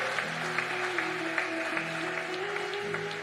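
A church congregation claps together, with steady applause from a crowd in a reverberant hall while sustained tones from a keyboard or organ play underneath.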